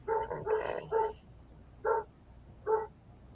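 A dog barking indoors nearby, a quick burst of several barks followed by two single barks spaced apart, with no talking.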